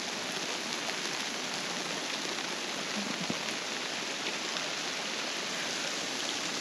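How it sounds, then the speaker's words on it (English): Hail and rain pour down on a mountain trail along the John Muir Trail, a dense, steady, loud hiss of patter that runs unbroken throughout, with no talking. "uh-oh, it's hail."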